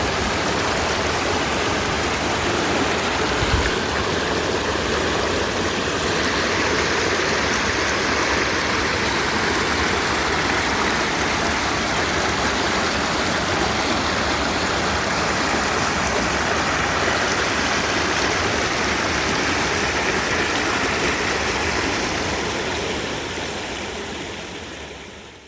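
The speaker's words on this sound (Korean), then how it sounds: "맑은 그 계곡의 물소리를 들으면서" A clear mountain valley stream rushes steadily and loudly for the whole stretch, a dense unbroken wash of flowing water that fades out at the very end, with no voices.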